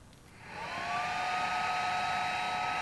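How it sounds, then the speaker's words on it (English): A smoke machine pumps smoke into a car engine's intake, starting up with a rising hiss that settles into a steady, close whine with a thin tonal hum. "It's making smoke, and we'll see where it comes out."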